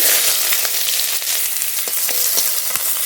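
Chopped onion fries with whole cumin in mustard oil, making a loud, dense, continuous sizzle close up with small crackles throughout.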